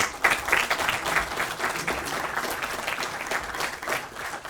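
Applause from an audience at a French public-speaking competition semi-final held at the ENS, steady dense clapping filling the room at moderate volume.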